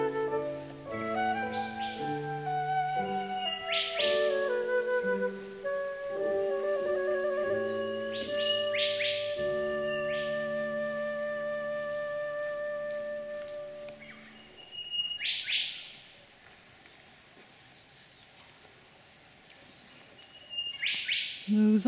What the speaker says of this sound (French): Nous entendons les oiseaux, mais nous ne les voyons pas.